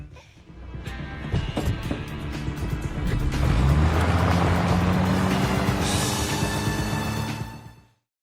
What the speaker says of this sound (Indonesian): Tiffany pergi ke Hackensack mengendarai sebuah mobil klasik yang ia rampok bersama Charles Lire